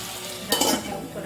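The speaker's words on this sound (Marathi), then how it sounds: "आता कांदा शिजवून घेतो परतून घेऊ" Onion being sautéed in a pan for dry chicken gives a brief burst of sizzling with a scrape of stirring, close and fairly loud over a low background hiss.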